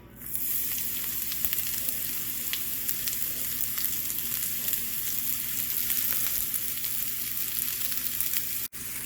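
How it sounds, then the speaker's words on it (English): Greens sautéing in hot melted butter in a pan, a loud, close, continuous sizzle and crackle that holds steady throughout with no talking. "Start heating your butter up in the pan. The butter is ready. Now you want to get those greens in."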